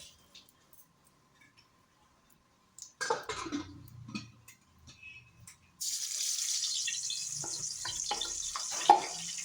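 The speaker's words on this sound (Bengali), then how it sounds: "তারপরে একদম ডুবো তেলে কিন্তু ভাজবেন এটা।" Katla fish deep-frying in oil for dahi katla: a few faint clinks, then a loud, steady sizzling hiss that sets in abruptly partway through and holds to the end.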